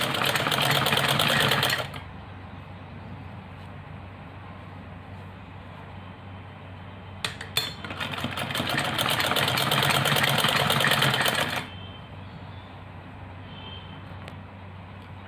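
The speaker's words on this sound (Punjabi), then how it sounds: "ਆਪਾਂ ਇਹ ਜਿਹੜੀ ਸਲਾਈ ਆਰਾਮ ਆਰਾਮ ਨਾਲ ਮਾਰਨੀ ਹੈ" A sewing machine runs steadily, stitching a slow finishing seam on a patch for a ladies' kameez, with a loud opening burst, a pause, then a long continuous stretch before stopping.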